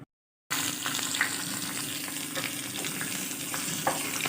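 Mustard seeds, urad dal, cumin and onion tempering in hot oil in a pan on the stove: after a brief silence, a steady close sizzle with scattered small pops and crackles continues throughout.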